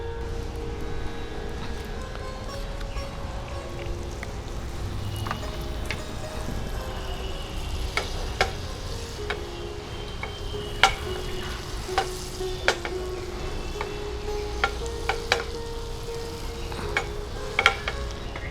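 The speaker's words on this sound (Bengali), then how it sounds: "মাখনটা গলে গেছে, এবার পনিরটা ছেড়ে দিচ্ছি।" Paneer pieces frying in melted butter on a tawa, a steady soft sizzle throughout with occasional sharp clicks and scrapes of a utensil against the pan, close and alone without talk.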